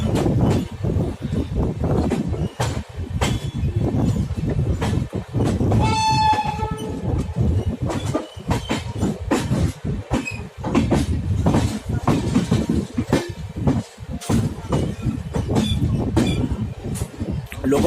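The Uttar Sampark Kranti Express, hauled by an electric locomotive, rolls along the rails with rhythmic clickety-clack and rumbling carriages, a horn sounding briefly partway through, steady and close.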